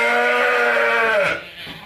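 A ewe gives one long, loud bleat close by, calling to a flock mate. The bleat holds steady for over a second, then cuts off into quiet.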